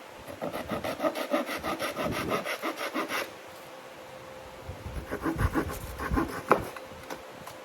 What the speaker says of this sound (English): So I'm going to cut it. I'm going to cut it. Japanese saws come in very handy.